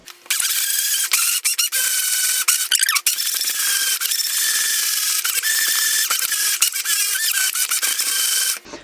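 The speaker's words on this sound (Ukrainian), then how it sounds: "і пробиваємо блендером." A blender whirs continuously up close, with rattling, clicking and squeaky grinding as it churns thick dark chocolate ganache with cream and butter for several seconds.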